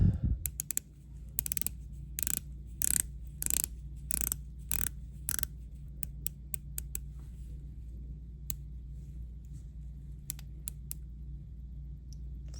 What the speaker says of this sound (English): So bezel action, pretty good.